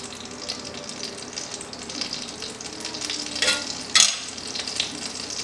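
Butter and oil melt and sizzle in a hot pan before blackened Cajun shrimp go in, giving a steady frying hiss with a couple of louder crackling bursts near the end.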